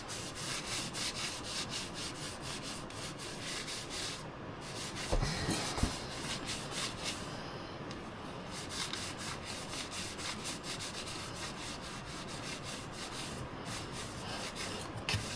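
Steady abrasive scrubbing on a trailer axle during cleanup of a dirty 8x20 cargo trailer, a dense continuous rubbing and scraping texture running the whole stretch with a brief louder burst midway, close and fairly loud.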